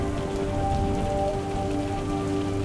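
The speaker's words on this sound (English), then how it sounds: "it's raining." Steady rain from a sudden storm at Dungeness drums on a nearby surface in a dense, even patter, with no voices over it.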